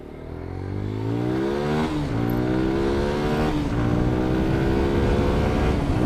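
A GPX dirt bike, called Dark Fury, revs hard while being ridden, its engine pitch climbing and dropping in repeated surges, loud and close with no talking.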